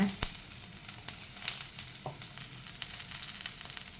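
Urad dal, green chilies and turmeric fry in hot oil for a tempering, a steady close sizzle with light crackles and a brief stirring scrape.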